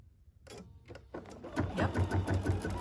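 A longarm quilting machine stitches an edge-to-edge pattern across a quilt, a rapid mechanical chatter of needle strokes that starts after a short quiet gap and grows steadier and louder, close by, with no talking.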